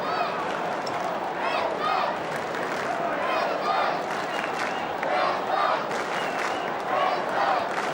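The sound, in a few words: stadium crowd cheering at the Gabba, Brisbane AFL match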